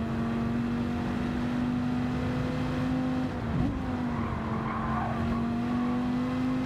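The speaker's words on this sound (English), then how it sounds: "Does a good job of riding over that curb." Race car engine in Gran Turismo 7 holding a steady loud drone as the car rides over a curb, with a brief bump and pitch wobble midway, then the engine note continues.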